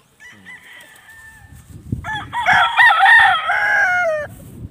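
A rooster on a farm with around 200 chickens lets out a loud, close crow that rises and holds for a couple of seconds, following a softer earlier call, with faint clucking and farmyard rustle beneath.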